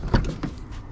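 A Holden VY Commodore unlocking, with a couple of short mechanical clunks from the door locks close by, fairly faint, with no talk.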